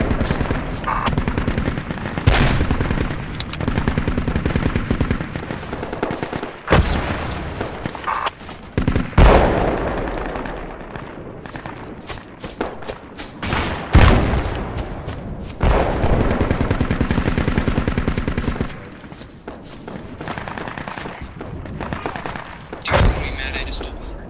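Gunfire and mortar bombardment fill a Falklands War battle in Project Reality, with loud, continuous machine-gun bursts and heavy booming thuds, while voices talk over the fighting.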